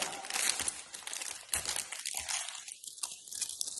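A package of gluten-free wafers being torn open, loud close crinkling and crunching of plastic wrapper in irregular bursts, with no talking.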